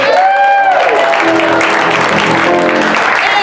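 Clapping from an audience at a Second City improv comedy performance, steady and loud across the whole stretch, with tonal sounds like keyboard notes or voices layered over it.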